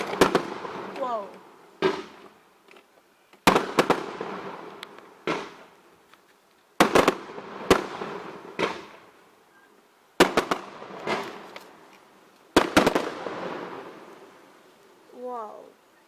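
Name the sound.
bonfire night fireworks exploding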